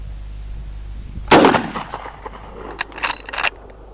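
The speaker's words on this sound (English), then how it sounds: "I've got a few rounds in here, the 405 grain Remingtons, and we've got a target out there at 300, so I'm just going to shoot offhand." A Marlin 1895GBL .45-70 lever-action rifle loaded with 405-grain rounds fires offhand at a 300-yard steel gong outdoors: one loud, sharp shot with a rolling echo, followed by a quick cluster of fainter cracks and clanks.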